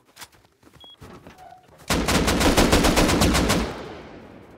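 Gunfire in Rust during a PvP raid: a few scattered shots at first, then a sustained rapid automatic burst that rattles on loudly for nearly two seconds before tailing off into echo.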